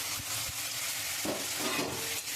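Drumsticks with mustard, poppy seed, salt, turmeric, chili and green chili are stirred in a pan, a soft continuous sizzle with a few muffled scraping strokes, faint and close, no voices.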